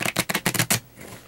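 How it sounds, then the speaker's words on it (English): A deck of playing cards is riffle-shuffled for a card trick, giving a quick run of about eight crisp, loud flapping bursts that stop abruptly, leaving quiet room tone. "So they shuffle the cards a couple times here."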